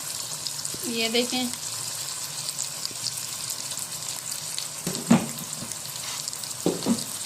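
Tomato, ginger and garlic added to onion fry in ghee inside a deg pot for matar masala, with a steady close sizzle and a few utensil clatters while someone speaks briefly.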